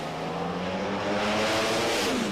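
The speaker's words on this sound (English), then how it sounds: "How about a nice drag race right there, man?" Nitro drag racing cars at the March Meet in Bakersfield roar down the track in a loud, continuous engine blast with steady harmonic drone throughout, no voices.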